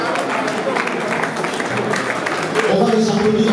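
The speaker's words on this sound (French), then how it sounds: "On va les applaudir encore très fort" Crowd of people at a ceremony for more than 250 young volunteers joining the FARDC armed forces, breaking into loud applause and clapping that swells toward the end, beneath a speaker's amplified voice.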